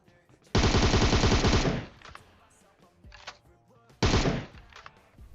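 Automatic gunfire rattles in PUBG Mobile: two loud, rapid bursts of shots, each lasting about a second, with faint game sounds in between.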